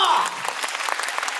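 A crowd at the Universal Studios Japan monster rock-and-roll show breaks into scattered clapping just after a voice at the start, the claps loose and uneven over a brief moment.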